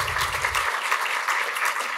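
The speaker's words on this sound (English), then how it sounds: "So let's give them an applause, everybody." An audience at a community event on school safety claps steadily, a close and even wash of many hands with no voices over it, holding at the same level to the end.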